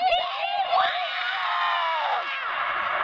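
Group of children shouting a loud, sustained cheer together, many young voices blending into one drawn-out yell lasting about three seconds.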